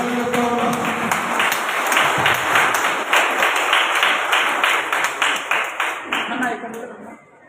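Applause from an audience at a Mala Mahanadu workers' meeting in Nandyal district: dense, steady clapping fills the room for about seven seconds before tapering off at the end, with voices mixed in underneath.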